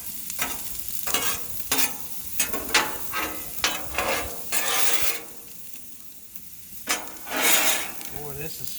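Sweet potatoes in oil on a Blackstone 36 Pro series griddle, with repeated scraping and stirring strokes over a steady sizzle, close up and fairly loud with no talking.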